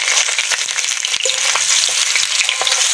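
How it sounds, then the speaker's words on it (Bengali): Potatoes frying in hot oil give a dense, steady sizzle and crackle, with occasional soft stirring knocks. No talk is heard over the constant loud frying. "এবার আলুগুলো দিয়ে দেবো আলুটাকে ভালো করে নেড়ে ছেড়ে ভেজে নেব"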